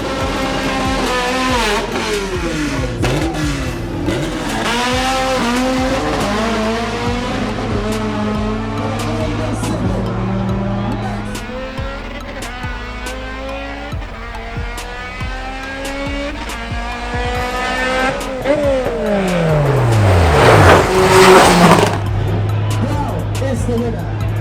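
A Honda Integra makes a drag racing run at a drag strip, engine revving and rising through gears near and loud, with a sharp surge and tire noise toward the end under announcer talk.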